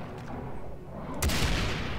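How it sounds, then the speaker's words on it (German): A single sharp, loud sniper rifle shot in Far Cry 3 Blood Dragon cracks out partway through, followed by a booming tail over steady background noise. "Nur 2 Schuss mit der"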